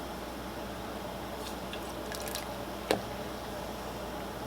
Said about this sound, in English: we're going to add in our lemon. You just squeeze that right in.